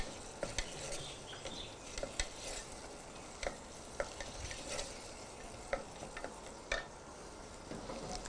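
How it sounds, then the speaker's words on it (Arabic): Whole garlic cloves frying with onion in a pot for red lentil soup, a soft continuous sizzle with scattered light clicks and stirring taps of a utensil, close and fairly quiet, no talking. "نقليهم مع البصل"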